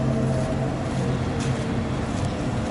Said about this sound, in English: And cars are crossing over the bridge now.